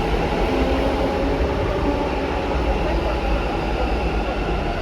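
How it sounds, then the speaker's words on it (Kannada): A metro train arrives, a loud steady rumbling roar of wheels and carriages close by, continuous and unbroken with no talk over it. "ಮೆಟ್ರೋ ಬಂತು."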